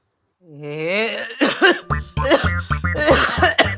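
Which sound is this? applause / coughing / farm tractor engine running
coughing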